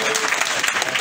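Crowd applause at a political gathering in Mali, a dense, steady burst of many hands clapping throughout, fairly loud and close, with no speech over it.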